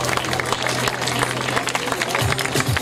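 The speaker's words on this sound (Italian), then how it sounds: "Accogliamola con un calorosissimo applauso." A crowd at the Miss Trans Abruzzo 2017 pageant applauds warmly to welcome guest Tamara Carpetine. The clapping is dense and steady, with voices and a low hum underneath.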